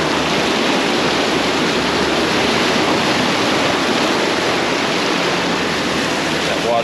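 Water sprays and rushes steadily as an off-road vehicle drives through it on a Florida trail, a loud, close, continuous wash of splashing noise with no voices.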